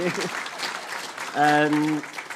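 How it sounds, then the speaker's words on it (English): Brief audience applause during closing remarks of a lecture, a wash of clapping running under a voice that speaks over it. "give him a round of applause"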